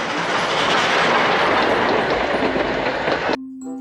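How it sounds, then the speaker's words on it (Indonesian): A continuous rattling rumble of a Thomas toy train running along track, loud and close, then cutting off abruptly near the end. "Wow, ada si kereta api Thomas"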